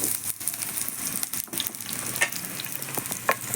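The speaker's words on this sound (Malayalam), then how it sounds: "വെളുത്തുള്ളി ചതച്ചത് തൊലിയൊന്നും കളയണ്ട ചതച്ചത് നമുക്ക് ഈ എണ്ണയിലേക്ക് ഇട്ട് കൊടുക്കാം" Crushed garlic cloves with the skins left on fry in hot oil, making a dense, close crackling sizzle with scattered pops throughout, without any talking.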